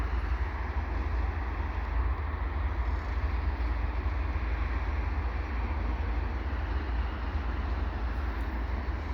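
A westbound CN freight train slowing to a stop at the Turcot holding tracks gives off a steady, continuous low rumble and broad mechanical roar that holds evenly throughout.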